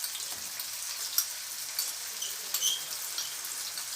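Garlic and ginger paste hitting a hot pan with green chilies already in it for chicken shawarma, giving a steady, bright hiss of frying with a few crisp pops and spatters, close and unbroken, with no talking.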